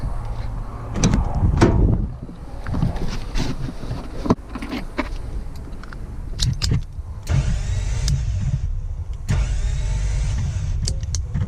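A Toyota FJ62 engine with the plugs out, cranked over by the starter for a compression test: a loud, steady mechanical churning in bursts, stopping and restarting, close by with no talk.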